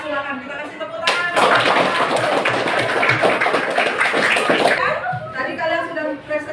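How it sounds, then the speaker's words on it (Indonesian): Applause from a classroom of students after a group presentation, a dense burst of clapping lasting about four seconds, with murmured voices and light laughter before and after. "silakan kita kasih tepuk tangan"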